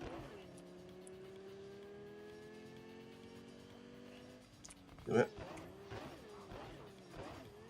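A car driven in Cyberpunk 2077, its engine droning steadily, then a thump or bump midway followed by rough, uneven engine revving with clatter.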